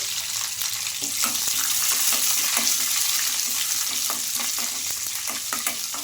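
Urad dal, cumin, mustard seeds and curry leaves fry in a tempering of hot oil, a close, continuous sizzle flecked with small pops and crackles, with no talking.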